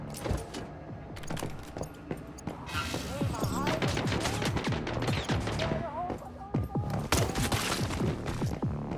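Rapid gunfire from a weapon in the survival shooter Once Human, bursts of sharp shots cracking through most of the stretch over a steady game background, with a voice talking at times.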